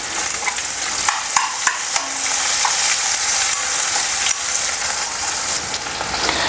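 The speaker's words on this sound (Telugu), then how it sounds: "ఇప్పుడు దీనిలోకి మనం ముందుగా కట్ చేసుకున్న ఆనియన్, మిరపకాయ అలాగే కరివేపాకు వేసుకొని" Chopped onion, green chilli and curry leaves fry in oil with a loud, bright, continuous sizzle, punctuated by occasional clicks and scrapes of stirring, very close with no voices.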